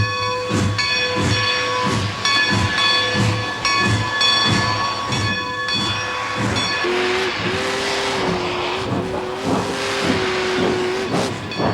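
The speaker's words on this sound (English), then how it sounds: "the train came out of the hole as the engineer cleared the stacks" A steam locomotive pulls out, chuffing in a steady, rhythmic beat with loud hissing steam as the stacks clear, then a sustained steam whistle tone rises over the chugging.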